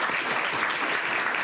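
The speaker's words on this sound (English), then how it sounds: "Let's give them another round of applause." An audience at a 7 Under 30 awards event applauds presenters, a full, even wash of clapping from many hands lasting the whole moment without speech.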